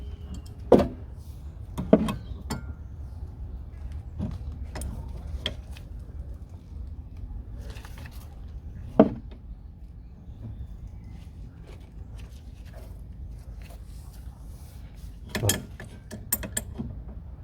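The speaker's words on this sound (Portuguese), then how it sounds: "trouxe também a chave regulável e com essa aqui com certeza a gente vai conseguir soltar" An adjustable wrench working on the steering tie rod end of a Fiat Palio, giving scattered metallic clicks and clanks at irregular intervals over a low background hum, fairly quiet and close.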